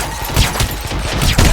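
Bursts of gunfire in the video game Hitman Absolution, several rapid volleys crackling close over a dense, noisy game soundscape, with no speech.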